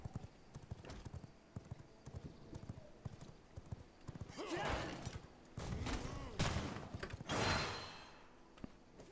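Hooves clip-clop at a steady gallop with a horse whinnying in the video game V Rising, mixed with game sound effects and bursts of noise.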